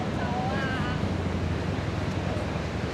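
Ocean surf rolls in along My Khe Beach in Da Nang, a broad continuous wash of waves mixed with wind buffeting the microphone, with faint voices and a brief whistle-like tone in the background.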